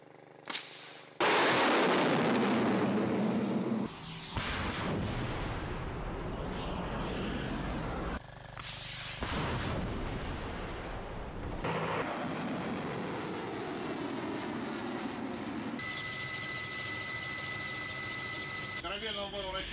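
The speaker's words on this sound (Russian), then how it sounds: "Ракета вышла, замечаний нет." Missiles launched during a Russian military exercise, several loud roaring blasts one after another, each a sudden broadband rush that sustains for seconds, with a tonal whine near the end.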